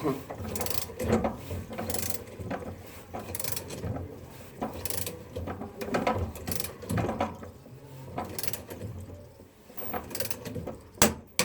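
A wrench tightens a wheel stud, giving a string of soft, irregular ratcheting clicks and metallic mechanism noises at close range, quiet overall, with a few sharper clicks near the end.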